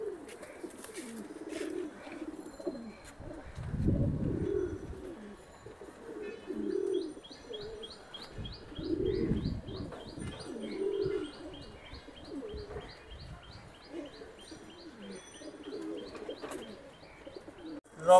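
A caged pair of pankhi pigeons coos again and again in low, throaty rolls, with thin chirps and light rustling scattered between calls.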